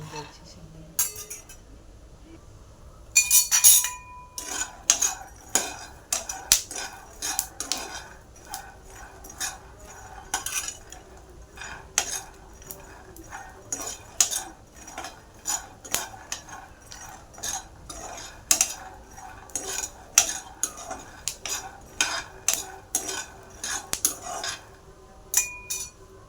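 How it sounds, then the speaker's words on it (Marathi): Peanuts dry-roasting in a pan until reddish, with a steady stream of hard clinks, rattles and metallic scrapes as they are stirred, fairly close and busy throughout, with no talking. "भाजून घ्यायची शेंगदाणे"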